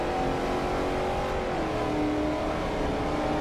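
A Ford Mustang Boss 429 in the racing game Forza Motorsport 4 holds a long, steady rev in first gear, with a loud, continuous engine drone that stays even throughout and has no talk over it.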